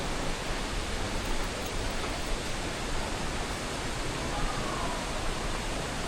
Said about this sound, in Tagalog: nakikita ko na yung falls